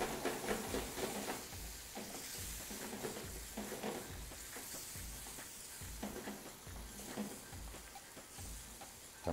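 Sauce sizzles and bubbles in a pan on a stove for an Egyptian minced-meat moussaka, a steady close frying hiss with repeated stirring scrapes at a regular rhythm.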